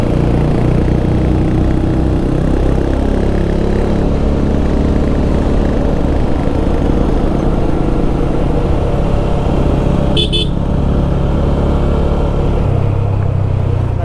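A motorcycle engine hums steadily while riding twisty mountain roads near Mussoorie in Uttarakhand, a continuous close drone with a brief higher whine near the end.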